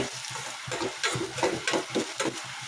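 Onions sauté in a pan for home-style noodles, a close, soft sizzle pulsing with the rhythmic push and scrape of a spoon stirring several times, with no talking.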